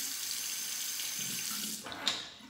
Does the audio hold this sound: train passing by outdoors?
no